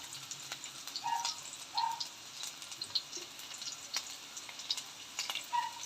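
Finely chopped garlic fries in a hot pan for a Kerala-style tilapia curry, a faint, crackly sizzle with soft spitting bursts rising and falling over quiet kitchen background.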